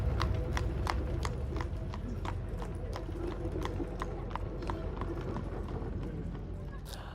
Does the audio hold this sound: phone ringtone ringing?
no